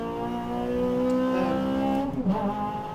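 A race car engine drones steadily at high revs on a track during push laps, then shifts pitch as it works through a gear change, loud and close.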